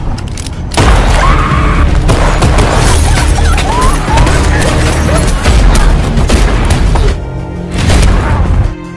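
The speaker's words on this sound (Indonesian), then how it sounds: "baku tembak terjadi di tengah perjalanan" Gunfire bursts through a film shootout during a witness transfer gone wrong. Dense, loud volleys of shots and heavy booms crash almost nonstop, with a short lull near the end.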